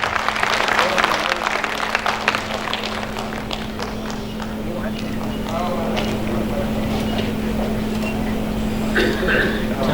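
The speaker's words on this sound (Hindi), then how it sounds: "आप सभी तालियों से सहयोग प्रदान करें।" Crowd applause welcoming a guest at an astro spiritual fair, dense clapping with a steady hum underneath, loud at first then easing, a few voices mixed in.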